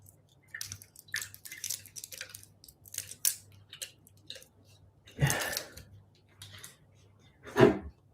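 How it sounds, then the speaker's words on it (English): Scissors snip open a sachet of plant feed beside water used for flower arranging, a series of soft close crisp cuts and crinkles, then louder rustling and a splash-like burst as the contents are handled, with no talk. "So I'm just going to snip it off there and then pour it in."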